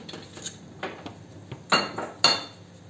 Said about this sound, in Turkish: Bahçe salatalığı olunca doğrayalım.